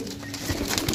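Pigeons offered for sale at a market in Sarai Alamgir coo softly and continuously, with faint rustling and bird noise throughout a short, fairly steady stretch.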